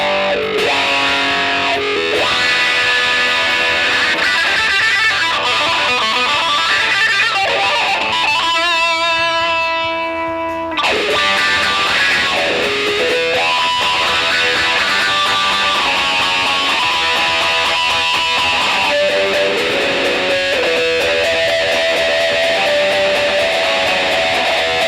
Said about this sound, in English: another really cool technique that you can use that's very proto-punky, garage rock style is the use of a wah-wah pedal as a filter